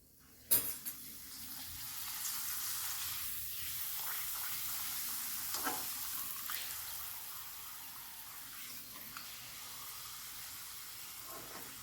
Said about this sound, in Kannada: ಎಣ್ಣೆ ಕಾದ್ತೆ ಸ್ನೇಹಿತರೆ ಇವಾಗ ಇದಕ್ಕೆ ನೋಡಿ ಹಪ್ಪಳನ ಹಾಕ್ತಾಯಿದ್ದೀನಿ